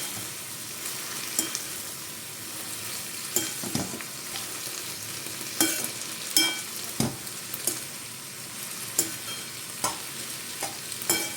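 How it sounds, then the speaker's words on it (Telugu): Tomato, coriander and garlic cloves fry in a pan for a tomato-mint chutney, with steady sizzling broken by repeated scraping stirs and clinks throughout, close and moderately loud with no talking. "ఇలా మగ్గుతున్నప్పుడే ఒక 4 వెల్లుల్లిపాయ రెబ్బలు కూడా ఇందులో వేసుకుని ఫ్రై చేసేసుకోవాలన్నమాట."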